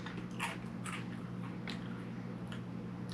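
Dry Trix cereal being bitten and crunched, several sharp close crunches spread across a few seconds over a steady low hum, with no talking.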